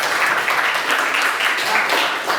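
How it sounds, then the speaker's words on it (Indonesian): A class of students clapping together in a classroom, a dense sustained patter of applause lasting a couple of seconds, close and fairly loud, with some voices mixed in. "Tepuk tangan lagi dong."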